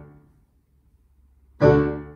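Roland LX708 digital piano on its dry piano sound with no reverb: a faint earlier tone fades to near silence, then one loud, close chord strikes and decays quickly.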